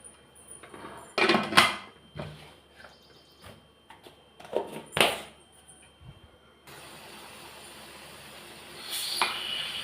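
Metal clanks and knocks sound close by as a lid is fitted onto a pressure cooker, several sharp taps and scrapes, followed by a steady low hiss.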